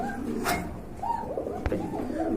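Several satin pigeons coo in soft, overlapping phrases nearby, with a brief sharp knock partway through.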